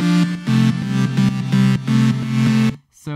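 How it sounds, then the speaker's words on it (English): Layered synthesizer patch plays a progression, with bright sustained chords pulsing in a rhythmic pattern, loud and close, then cutting off abruptly near the end. "So it sounds like this is what the first layer sounds like."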